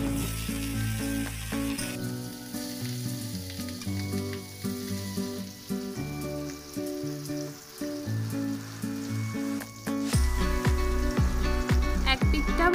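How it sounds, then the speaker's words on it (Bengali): Rohu fish pieces frying one by one in plain oil on a medium gas flame, giving a steady loud sizzle throughout with clinks of a utensil and a louder burst of frying near the end. "तो देखुन माछगुलोके एके एके फ्राई करे नेब"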